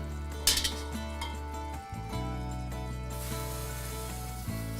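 Rice is stirred in a pan with wine and stock for Sicilian rice balls: a spoon scrapes and clinks against the metal over a soft sizzle, with a sharp knock early on and busier scraping later, close by and alone.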